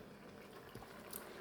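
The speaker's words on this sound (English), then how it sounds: "it's been bubbling" A vegetable stew simmering on the stove gives off a steady, close bubbling hiss with soft gurgles, unbroken and even throughout, with no talking.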